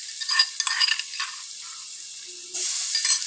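Crushed garlic fries in a pan over moderate flame, a soft sizzle broken by intermittent stirring scrapes and light metallic clinks.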